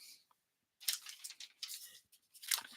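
Scissors snip through a piece of card being trimmed to 3.5 by 1 inch for a stepper and easel card, giving several crisp close cutting bursts after a short quiet pause, with no talking.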